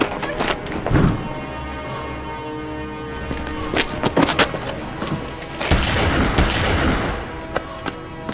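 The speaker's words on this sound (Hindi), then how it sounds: "अब मेरी गन का कमाल देख।" Gunfire effects from a Hindi-dubbed Hollywood action movie: scattered sharp shots and bursts amid a busy soundtrack, with a low rumble and a couple of heavier blasts near the end.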